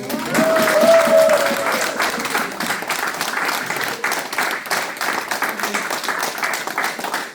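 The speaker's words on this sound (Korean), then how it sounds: "수잔 러브 우리 이사님을 앞으로 모실 때 큰 박수로 환영해 주십시오." A workshop audience applauds to welcome a board member, dense sustained clapping from many people that swells at the start and then carries on evenly, with a brief tone and faint voices in the background.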